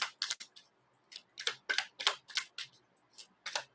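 Tarot cards being shuffled by hand, a quick series of crisp riffling flutters and snaps in bursts, close and fairly quiet, with no talking.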